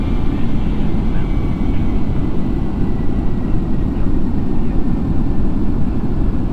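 An Airbus A321 in the Flight Sim Labs flight simulator builds engine thrust on approach with flaps extending, a loud, steady broadband roar with deep low rumble filling the whole stretch.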